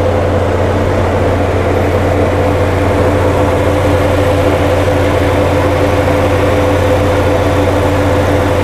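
A 2001 Chevrolet Blazer LT with a DOHC engine idles smoothly and steadily, a constant low hum with the air conditioning switched on and no voices.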